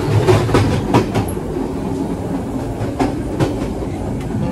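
A train of mixed, mismatched railway cars rolls past close by, producing a steady loud rumble with repeated clickety-clack wheel beats over the rail joints, and no talking.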